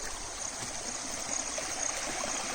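Forest stream and distant waterfall at Medha Waterfall near Songadh make a steady, close rushing and trickling of water that runs without a break and with no voices over it.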